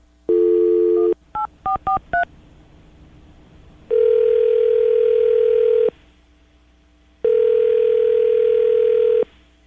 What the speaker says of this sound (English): I'm going to call him right now, get him on the phone